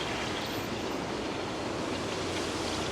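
Water features splash steadily in downtown Vancouver, a continuous broadband wash of falling water, even and unbroken throughout, with no voices.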